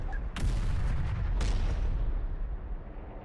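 Two deep booming artillery or rocket shots from Terminator: Dark Fate - Defiance strike about a second apart, each a sharp crack followed by a heavy rumbling tail that fades slowly.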